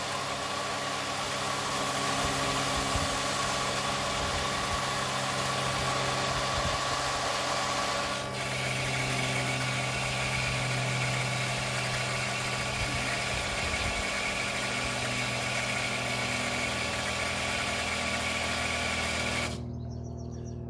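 A Clarke SPE1200SS electric water pump runs continuously with a steady loud mechanical hum and vibration, its tone shifting as the flow changes, then cutting off abruptly near the end.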